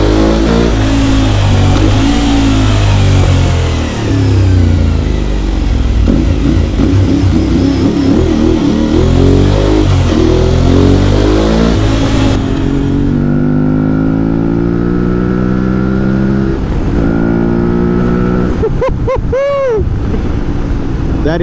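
A 2022 Aprilia Tuareg 660 motorcycle engine drones loudly under wind rush, its pitch rising and falling as the throttle changes, with a few sharp revs near the end.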